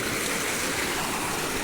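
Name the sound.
river water flowing at crossing near Dangiri Waterfall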